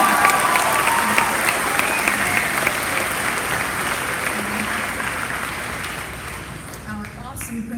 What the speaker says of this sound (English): Could I hear some applause for the Sputter family?